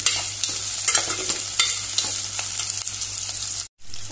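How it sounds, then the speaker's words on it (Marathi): Onion and green chili frying in a pan for a Goan dry prawn curry, giving a steady dense sizzle with occasional stirring scrapes and a brief break near the end, with no talking. "आतां भितर ग्रीन चिली म्हणजे हिरवी मिरची घालुया आनी बरी फ्राय करुया"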